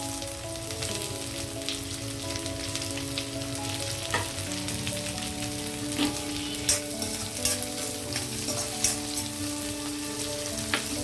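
Onion and garlic fry in a pan with a steady, close sizzle, punctuated by occasional sharper pops and stirring scrapes while the oil hisses continuously.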